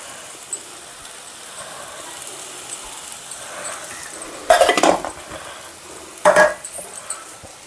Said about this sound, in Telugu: దీన్ని కూడా బాగా కలపాలి